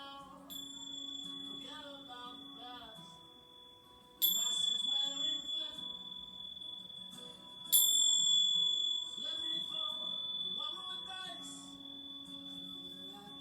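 Chimes at the end of a yin yoga session, two bright metallic strikes a few seconds apart that each ring on and slowly fade, with a sustained soft musical tone underneath.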